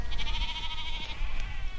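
A flock of Landes sheep bleats on a conservation farm, several overlapping wavering calls up close over a rumbling outdoor background.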